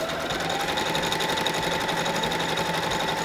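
An overlock sewing machine runs steadily as it stitches and finishes the cut edge of a fabric. It gives a dense, continuous mechanical whir up close, loud and unbroken, with no voices.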